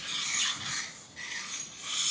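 A high-speed steel jointer knife is stroked along its long back side on a 400 grit sharpening stone, giving a few soft, rasping rubs that swell and fade in a steady back-and-forth rhythm, close and fairly quiet with no talking.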